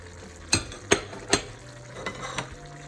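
Peppers being stirred in a cooking pan: three sharp spoon scrapes at a steady pace, then two softer ones, over a low, even kitchen hum, with no talking.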